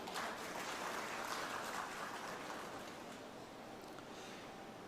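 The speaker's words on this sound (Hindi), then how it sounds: "पशुपतिनाथ जी हमारे बीच मौजूद हैं, उनकी इस मौजूदगी के लिए जरा जोरदार तालियां हो जाए।" A crowd at the grand launch event of Bharat News24 applauds to welcome the MP, a continuous, rain-like patter of many hands that holds steady and eases slightly toward the end.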